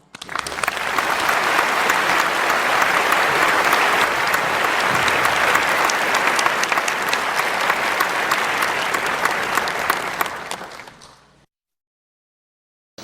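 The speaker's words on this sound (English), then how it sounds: "let's welcome Supreme Master Ching Hai with warm applause" A large conference audience in Jeju, Korea, claps warmly to welcome a speaker, a dense, steady roar of applause lasting about ten seconds before cutting off into silence.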